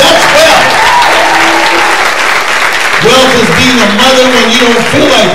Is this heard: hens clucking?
no